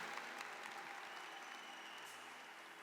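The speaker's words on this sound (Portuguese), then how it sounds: "dê uma forte salva de palmas a Jesus, porque Ele merece" A church congregation applauds for Jesus during a sermon, a faint, even wash of many hands clapping heard from a distance for the whole stretch.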